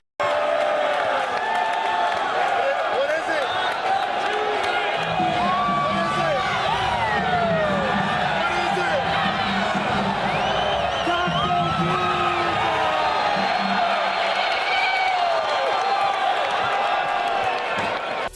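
Basketball fans, someone among them, cheer and whoop at a game, making a steady roar of crowd noise with rising shouts, while a voice talks over it.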